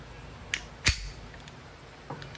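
An E&C airsoft Glock 19 Gen 3 pistol firing: a couple of sharp, close snaps less than half a second apart, followed by a faint click, with no talking.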